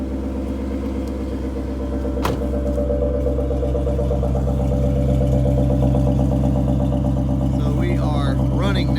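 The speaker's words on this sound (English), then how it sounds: "I'm just going to let it sit out here and idle for a while" A Ford Mustang Fox Body engine idles steadily with a low, continuous rumble, while a person talks quietly over it.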